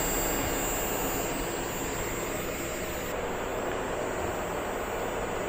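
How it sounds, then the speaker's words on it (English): A 24V DC 10,000 BTU low-profile rooftop air conditioner runs with its cover removed, its compressor and fan giving a steady, close, broadband whooshing roar that holds unchanged throughout. "You can hear the compressor right here."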